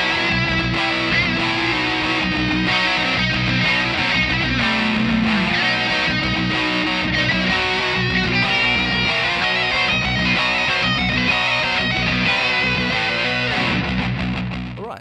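Distorted electric guitar plays a heavy psych-rock riff and then a screaming lead solo, loud, dense and continuous for about fifteen seconds with no talking.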